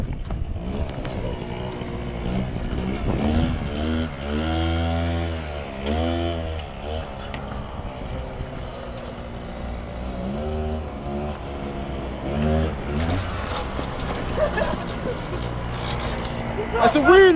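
An engine revs hard and rises in pitch during a wheelie attempt at a hire venue, with repeated sweeping surges that stay close and loud, while people shout and talk over it throughout.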